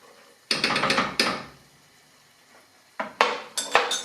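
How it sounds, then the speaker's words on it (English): A spoon scraping and clinking against a pan as mustard is stirred into a chicken and leek pie sauce, coming in two close bursts of rhythmic metallic strokes with a short pause between them. "Get that stirred in."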